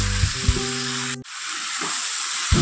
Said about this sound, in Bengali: ফুলকপি আলুটা দিয়েও আবার খুব ভালো করে কষিয়ে নেব।